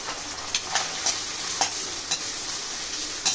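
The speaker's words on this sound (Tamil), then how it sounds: "நல்லா வதங்கட்டும் கண்ணாடி பதத்துக்கு வரட்டும்" Onions sizzle steadily in hot oil until translucent, with periodic scraping clicks of a spoon stirring the pan up close.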